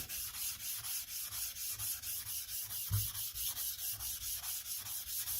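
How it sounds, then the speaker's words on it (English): A Nagura stone rubbed back and forth across a coarse sharpening stone, about two dozen even, rhythmic gritty strokes close up, with one heavier knock near the middle; no talking. "just kind of condition the surface a little bit with my Nagura"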